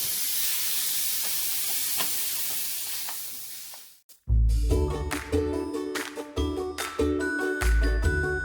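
About 1 pound of meat frying in a pan on a stove, hissing and sizzling loudly and steadily, with clinks and scrapes as it is stirred, following a quieter hiss.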